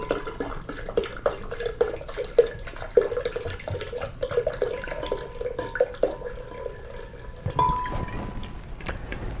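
Mountain Valley spring water pours and trickles into a blender jar in uneven splashes and drips, fairly close and moderately quiet, with a brief fuller gush near the end and no speech.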